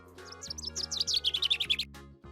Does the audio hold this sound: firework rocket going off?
no